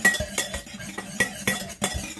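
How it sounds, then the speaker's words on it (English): A whisk beating sauce in a bowl, giving rapid, evenly repeated metallic clinks and scrapes, close and fairly loud, with no voices. "now we're going to need the old whisk"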